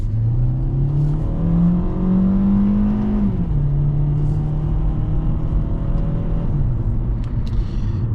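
A car engine hums and rises in pitch as it pulls away. The tone drops sharply at one gear change, then holds a steady drone. The loud, close cabin rumble runs throughout with no voices.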